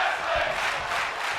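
A wrestling event crowd cheers and roars in a large arena, a dense, sustained wash of many voices at steady loudness with no single voice standing out.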